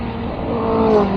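A Harley-Davidson motorcycle riding just ahead on the road gives a steady, fairly loud engine and exhaust rumble that builds slightly, heard from behind alongside the following bike's own engine.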